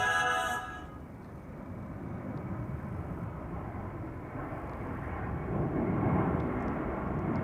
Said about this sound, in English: KLM flight 535 going to Kigali